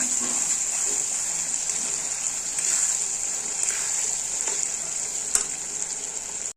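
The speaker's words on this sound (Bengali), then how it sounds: "চলো মটরশুঁটি দেখতে কষে নিই।" Green peas sauté in hot oil in a pan for paneer masala, a steady bright sizzle that holds throughout, broken by a few soft stirring scrapes and a sharp clink near the end.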